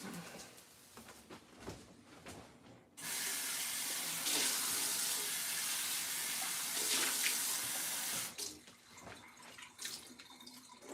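Water pours from a cast iron pan into a kitchen sink in one loud, steady rushing splash of several seconds, set between quieter stretches with faint clatter before and after.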